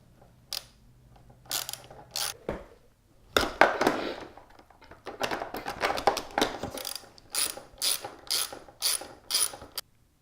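A hand ratchet clicks repeatedly while loosening a bolt on the headlight assembly of a Kawasaki Z125 motorcycle, coming in close, crisp bursts of clicking separated by short pauses.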